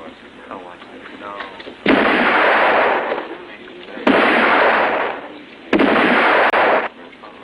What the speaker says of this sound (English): That weapon is perfectly capable of firing.